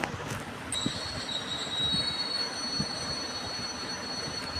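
A train pulls into a new railway station, its wheels squealing in sustained high-pitched tones over a steady low rumble as it slows.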